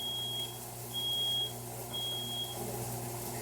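A smoke detector set off by grill smoke despite a fume hood beeps in long, steady tones, three sustained shrill beeps in a row over a constant low hum of the range hood.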